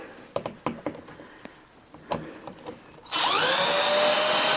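A power drill backs out the mounting screws of a ceiling light: a few light clicks and taps come first, then the drill starts up close and runs with a steady high whine.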